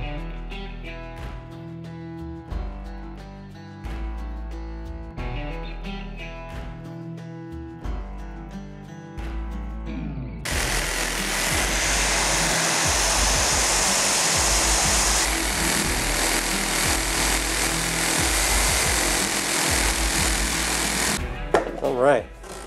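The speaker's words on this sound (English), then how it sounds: "I'm going to use a jigsaw to clear out this waste with a clean wood blade" A jigsaw fitted with a clean-cut wood blade saws out waste wood, a loud steady buzzing rasp that runs continuously for most of the stretch after a quieter lead-in of other sounds.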